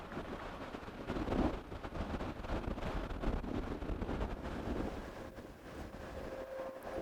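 Wind at a disc golf course blows against the microphone in a faint, steady rumbling buffet with gusty swells throughout and no clear voices.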